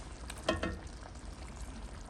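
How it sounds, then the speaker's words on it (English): Pineapple poured from a can into a pan of thickened sweet and sour meatball sauce, giving a short wet splash and glug near the start over a steady low sizzle. "Now it's time to pour in the pineapple."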